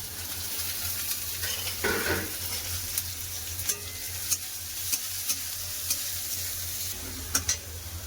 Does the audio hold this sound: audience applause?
no